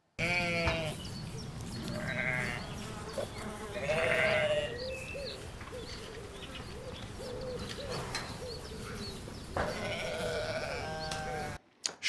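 Several goats bleat one after another, some near and some farther off, over a steady rustling barnyard bed with faint bird calls, forming layered ambience for the film "Santiago".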